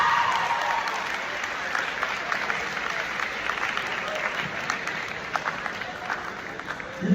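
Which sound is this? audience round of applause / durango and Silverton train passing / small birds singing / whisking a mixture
audience round of applause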